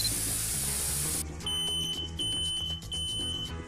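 A 40-euro smoke detector's strident alarm rings out, a loud, piercing, steady high tone that takes over from a rushing hiss about a second in and then holds unbroken.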